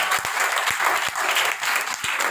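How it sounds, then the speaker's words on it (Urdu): A church congregation claps loudly for Jesus during an Urdu-language sermon, steady dense applause from a crowd filling the room with no speech over it. "آئے یسوع کے لیے زوردار تالیاں بجائیں"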